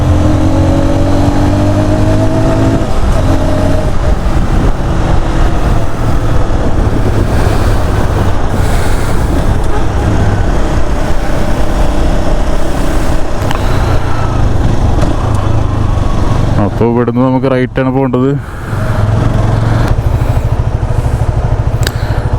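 A motorcycle ridden on a road in the UAE gives a steady engine drone under heavy wind buffeting across the microphone, continuous throughout, with the rider speaking briefly over it.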